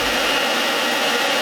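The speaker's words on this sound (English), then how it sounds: "I suggest a spare blow dryer." Blow dryer running while melting crayons, a steady close airy whoosh with a constant motor hum and no talking.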